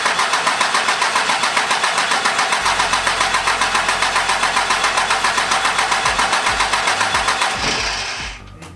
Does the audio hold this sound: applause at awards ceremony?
no